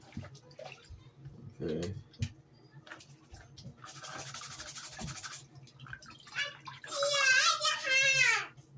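A hat plunged and scrubbed in a tub of water, with splashing and sloshing that swells into a louder rush near the end, while a person speaks briefly between the water sounds.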